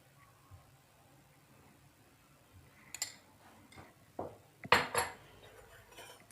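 Rasmalai mix with three spoons of oil stirred in a bowl, a few sharp spoon clinks and scrapes against the bowl, scattered and close, with quiet gaps between.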